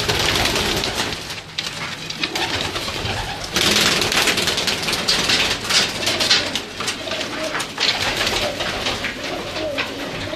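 Pigeons of a main breed cluster in a loft and coo continuously in a dense, noisy murmur, with wing flutters and scuffling mixed in throughout.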